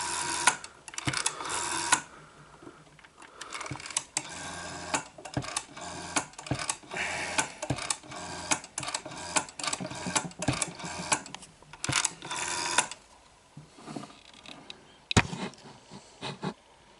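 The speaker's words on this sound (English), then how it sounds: "I dial my mobile number" Rapid mechanical clicking and ticking bursts from an Ericsson PMG 271 telephone dialing, repeated in quick irregular runs with short pauses between them.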